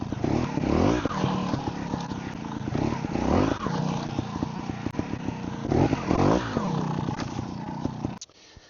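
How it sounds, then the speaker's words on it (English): A trials motorbike climbing and riding over a log outdoors, the engine revving and blipping in repeated surges with clattering mechanical noise, loud and close, before it cuts off abruptly. "So there it is, the trials bike."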